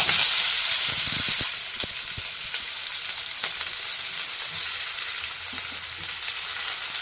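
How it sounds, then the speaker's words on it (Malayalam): Mustard seeds, onion and curry leaves sizzle steadily in hot coconut oil for a homemade prawn curry, a loud continuous frying hiss with small crackles and pops throughout. "അതേ നമ്മുടെ കടുക് പൊട്ടിത്തെറിക്കാൻ തുടങ്ങിയിട്ടുണ്ട്."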